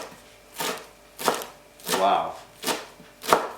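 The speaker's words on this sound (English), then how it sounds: "And now give this a chop." Fresh coriander, just washed, is chopped with a knife on a board in five steady, close strokes, and a single short exclamation is heard.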